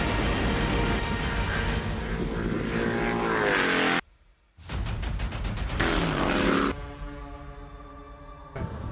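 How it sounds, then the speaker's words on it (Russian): Loud exhaust roar from a performance car launching at a drag race start among a BMW X6M, AMG C43, BMW 750d, Mercedes S500 and BMW 535i, a harsh sustained blare that cuts out briefly, then returns with raspy pulsing and a lower rumble. "Громкий выхлоп, дико громкий выхлоп."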